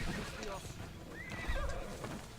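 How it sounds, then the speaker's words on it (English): Horses in Assassin's Creed Odyssey neigh and whinny, with clip-clopping hooves and clatter mixed in, fairly close, while a person talks over it. "horses!"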